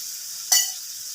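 Ground cumin dropped into hot oil for a potato and peas paneer dish, a brief sharp sizzle burst that fades over a steady low frying hiss.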